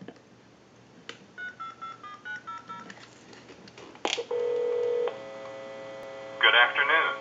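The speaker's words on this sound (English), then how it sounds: "Now what we can do is call a time and temp number, and we'll use our tone dialer." A tone dialer held to a telephone receiver plays a quick run of DTMF beeps, followed by a steady line tone and a ringback-like burst, placing a call to a time and temperature number on an old wood wall telephone.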